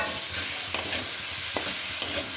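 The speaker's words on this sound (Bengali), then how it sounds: "এবার আমরা সবগুলো নেড়ে চেড়ে ভালো করে জলগুলো শুকিয়ে নেব।" Momo filling of minced meat with pepper, black salt, chaat masala and coriander is stirred in a frying pan to dry out its water, giving a steady soft sizzle broken by a few sharp scraping strokes of the spoon.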